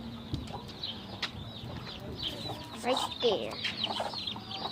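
A flock of chickens, including a white hen with chicks, clucks and chirps while being fed, with a brief scuffle of birds; a person speaks briefly in the middle.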